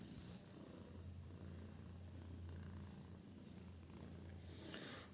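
A lazy cat sleeps while purring or snoring softly, a faint, continuous low rumble with a steady rhythmic texture throughout, close and with no talk.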